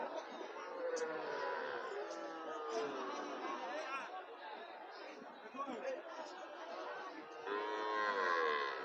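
Cattle low repeatedly at a busy livestock market selling Sahiwal and local bulls and heifers, moos rising over a constant murmur of crowd chatter and voices throughout.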